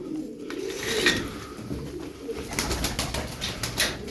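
Tumbler pigeons kept as performing flock birds coo steadily and nearby, low burbling calls repeating in overlapping phrases with little else around them.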